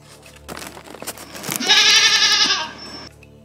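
Goat giving a single loud, wavering bleat lasting about a second and a half, rising out of quieter background clatter and ending abruptly.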